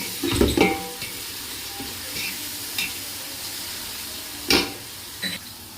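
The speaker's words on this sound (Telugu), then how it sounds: "అల్లం వెల్లుల్లి పేస్ట్ వేస్తున్నాను." Ginger garlic paste fries in a pan with fried onions for mutton biryani, a steady close sizzle broken by a few stirring scrapes and clinks of a spoon against the pan.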